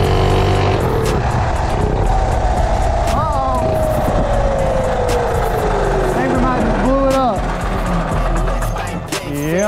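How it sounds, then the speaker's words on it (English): A drag racing mini bike with a swapped 212 engine, 308 cam, billet flywheel and thin head gasket runs loud and close with a constant throaty roar, while voices talk over it. "So this is my 212 swapped drag racing mini bike."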